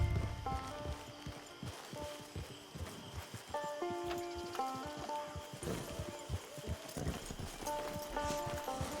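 Horse hooves in Red Dead Online clip-clop at a steady walking pace near a camp, a quiet rhythmic patter against soft background ambience with a brief whinny-like sound.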